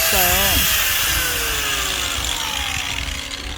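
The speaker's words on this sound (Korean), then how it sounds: "그라인더로 날 좀 가는 거" An angle grinder sharpening a dull axe blade outdoors on a farm, with a loud, steady, harsh grinding whine up close and a voice heard briefly at the start.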